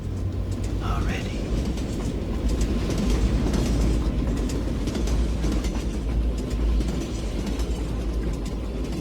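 Train rolling along rails, a steady low rumble with faint rhythmic clatter throughout, heard from inside the moving carriage.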